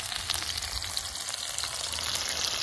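Chilies dropped into hot oil in a pot outdoors in a forest clearing: a bright, steady sizzle with crackling spatter, moderately close and continuous.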